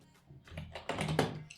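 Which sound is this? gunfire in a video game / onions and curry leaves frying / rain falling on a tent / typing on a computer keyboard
typing on a computer keyboard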